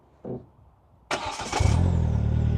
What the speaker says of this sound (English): So turn the car on again, clutch in,